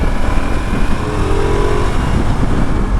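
A 2021 Ducati Multistrada V4 S on a road test ride, its engine giving a loud, continuous roar mixed with rushing wind.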